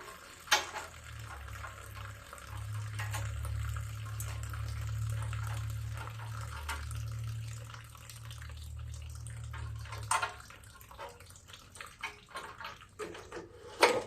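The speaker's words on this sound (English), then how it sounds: "while it's draining, not draining on everything else, into my drain pan" Fuel drains from the carburetor of a Poulan Pro snowblower with a 9.5 hp Briggs & Stratton engine into a drain pan. It makes a soft, steady trickle for about ten seconds, then thins into scattered drips and small handling knocks.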